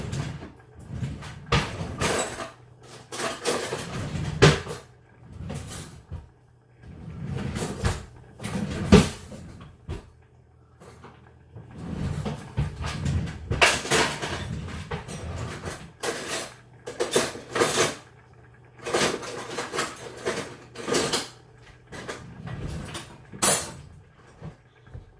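Cupboard doors knock and cutlery clatters in a home kitchen as someone fetches a spoon, with repeated close bangs, rattles and scrapes in irregular bursts and no talking.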